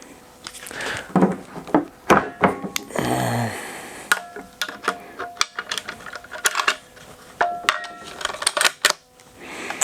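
A Savage Axis rifle bolt is handled and recocked, giving a series of sharp metallic clicks and snaps with a brief sliding rasp, scattered irregularly and close up across the clip.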